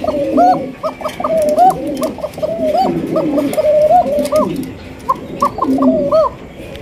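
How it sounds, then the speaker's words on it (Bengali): A breeding pair of chila pigeons coos close by, giving repeated rising-and-falling rolling coos in an uneven rhythm, one call overlapping another, with no voices over them. "একদম অরিজিনাল এক জোড়া চিলা কবুতর পাইতেছেন, ডিম বাচ্চা করা রানিং পেয়ার"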